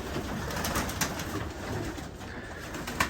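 A young sooty pure Uben pigeon coos softly among other pigeons in a loft, low murmuring calls repeating under a steady background hiss, no talking.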